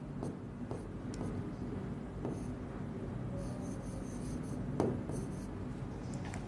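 Names are written on a board in a classroom, with faint intermittent scratching and tapping strokes over a steady rumbling background and one sharper tap near the end.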